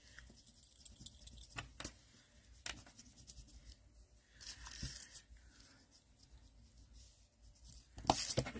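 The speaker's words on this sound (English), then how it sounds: "Now I just want to see if I can erase in here." An eraser rubbed over an embossed paper card, giving soft scratchy rubbing and light brushing in short bursts, close and quiet, with a brisker scrubbing flurry near the end and no speech.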